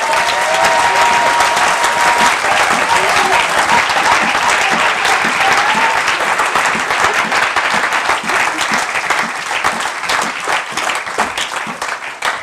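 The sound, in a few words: congregation applauding to acclaim the Lord in church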